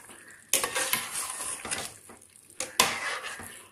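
A spoon stirring chickpea rice in a pot on a stove, with scraping and clinking against the metal and a soft sizzle underneath, close and fairly loud, in uneven bursts.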